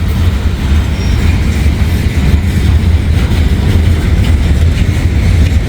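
A gondola freight train passing close by at a crossing, a dense, loud low rumble of rolling cars with faint clickety-clack, continuous throughout.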